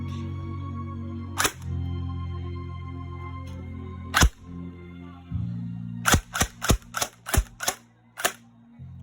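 An upgraded airsoft gun fitted with a new spring, air seal and battery fires two sharp single shots, then a rapid full-automatic burst of about seven snappy cracks, loud and close over a low mechanical hum.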